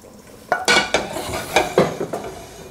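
Milk added to a hot pan of sauce for a lasagna cheese sauce and stirred, heard as a series of scraping, clinking utensil strokes against the pan with a faint sizzle underneath, close and without speech.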